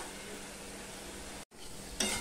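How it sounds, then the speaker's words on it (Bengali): A spice paste being sautéed and stirred in a pan for a small fish and raw mango curry makes a soft, continuous sizzle with light scraping. It is faint and close, breaks off for a moment, then comes back with a brief clink. "এবার মশলাটাকে আমি ভালো করে কষিয়ে নেব"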